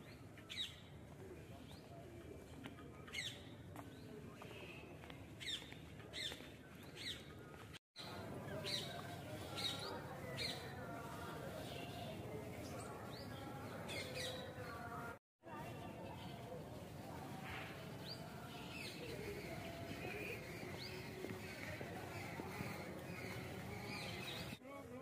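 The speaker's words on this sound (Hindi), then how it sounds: "चिड़ियों के चहकने की आवाज़ आ रही है।" Birds chirp and coo repeatedly in the background over a steady outdoor ambience at a sun temple, with brief sharp calls scattered throughout and two short dropouts.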